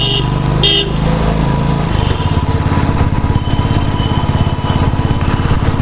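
A Royal Enfield Bullet motorcycle climbs a hairpin bend on the Agumbe Ghat in first gear, its loud, close thumping single-cylinder engine pulsing steadily as the revs settle into a firm rhythmic beat.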